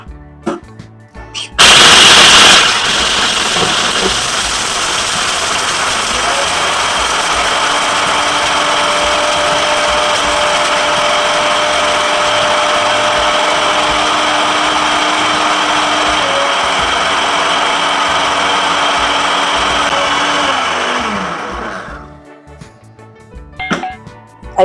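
An Amazon Basics food processor grinding a hard ingredient, starting with a sharp clatter, then a loud steady motor whine that runs for about twenty seconds before winding down and stopping.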